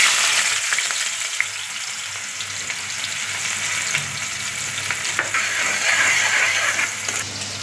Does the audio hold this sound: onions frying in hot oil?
yes